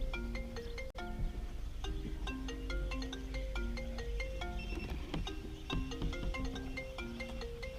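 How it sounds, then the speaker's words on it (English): A mobile phone ringtone plays a repeating melodic tune aboard a small fishing boat in a cove, moderately faint but clear over quiet background, with no talking. "Phone's ringing."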